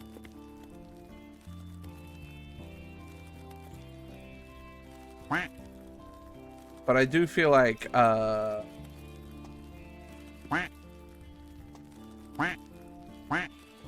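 A duck quacks repeatedly: single quacks spaced out, plus a quick burst of several in a row midway, all heard over someone talking and a soft background tone.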